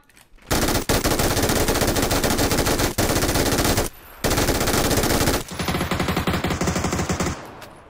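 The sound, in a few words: gunfire in the video game PUBG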